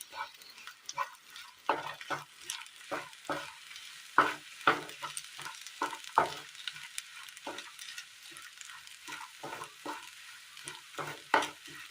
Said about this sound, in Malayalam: ഇനി എല്ലാം കൂടി നന്നായി ഒന്ന് മിക്സ് ചെയ്തെടുക്കണം